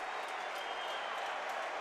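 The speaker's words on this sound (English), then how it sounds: "Crowd is up on their feet and roaring" A college basketball arena crowd at a Indiana Hoosiers versus Minnesota Golden Gophers game cheers in a dense, steady wash of applause and roaring, heard from a distance for a couple of seconds.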